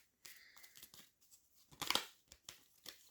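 Tarot cards being shuffled by hand: soft irregular riffling and papery flicks, faint and close, with one brief louder rustle midway and no talking.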